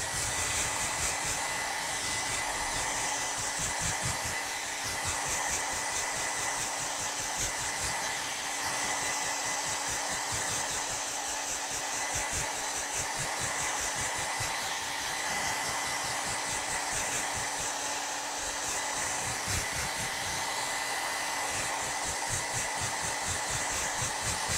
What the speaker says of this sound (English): so that I can dry it with my hairdryer